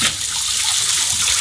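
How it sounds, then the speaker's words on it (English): Hot water sloshed and swirled inside a glass beer growler during rinsing, a steady continuous watery rush close by with no pauses. "what I like to do is just wash the water around a little bit"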